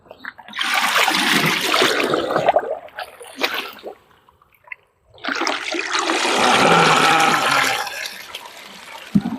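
Water sloshes and splashes in two long bursts, a brief pause between them, with steady rushing and trickling as mud and soil are rinsed off creek crabs close by, in the Konkan.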